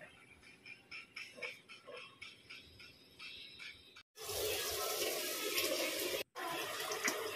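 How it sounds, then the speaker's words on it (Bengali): Water sloshing and pouring while rice is washed by hand, first soft intermittent splashes and swishes, then a loud steady rush of running water close to the microphone. "একটু চালটা ধোয়া শেষ আমার"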